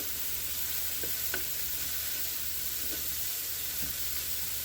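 Taco meat for homemade street tacos fries in a pan with a steady, soft sizzle throughout, a few faint clicks and scrapes over it, quiet and continuous with no talking.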